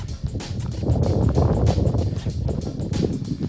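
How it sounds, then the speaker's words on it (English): Strong wind buffets the microphone in heavy, rumbling gusts that swell and ease without pause, during FPV drone flying around a tower. "it's really windy"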